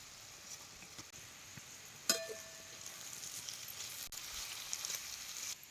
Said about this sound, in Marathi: हे सगळं तेला चांगलं भाजून घ्यायचं आणि मग त्याच्यात अंड घालायचं